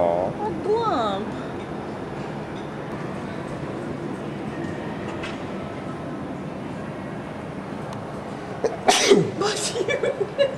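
A single loud, close sneeze bursts out near the end amid a busy cosplay convention crowd, with background chatter and hall noise throughout.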